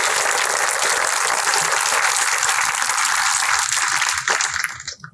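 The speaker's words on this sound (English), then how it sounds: "Let's give our sponsors a round of applause." Guests at a charity bruncheon give a full, steady round of applause that carries on evenly before tapering off and fading at the end.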